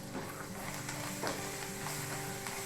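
Curry leaves and coriander sizzle in a pan with oil and turmeric for mango rice. A soft, steady frying hiss runs throughout, broken by a few light stirring scrapes and clicks, with no one speaking.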